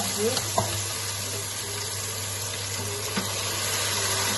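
Oil hissing and sizzling steadily in a pan while plantains fry, a constant broadband crackle with a few small pops and clinks, no talking over it.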